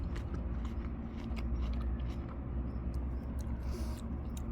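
Someone bites into a crunchy, not fully ripe Laurie Anne plum, a few soft close crunching bites and chews over a low steady background hum, with no talking.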